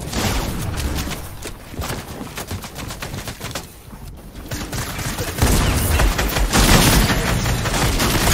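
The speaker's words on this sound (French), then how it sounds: "il met des balles à travers le mur" Rapid gunfire in a first-person shooter, bursts of shots fired through a wall, loud and dense with crackling volleys, a brief lull midway and a heavier barrage toward the end.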